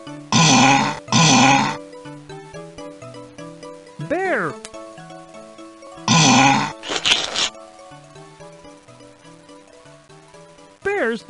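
A cartoon bear growls in the Muppet Babies: Animals in Nature PC game, a few loud, throaty bursts alternating with a narrator's voice and soft chime-like music notes.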